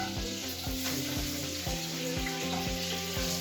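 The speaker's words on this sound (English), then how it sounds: "I'm gonna dump in the french fries." French fries sizzle steadily in hot oil, a dense crackling hiss that continues without pause beneath a rhythmic musical beat.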